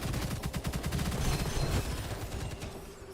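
Rapid bursts of automatic gunfire in a shooter video game, close and loud, rattling in quick repeated volleys that carry across the whole moment.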